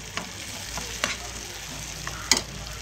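Green chickpea curry with garam masala and sugar being stirred in a pan, with a constant sizzle and a few light spoon scrapes and knocks against the pan.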